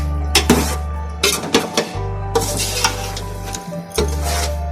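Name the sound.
potatoes and tomatoes frying in masala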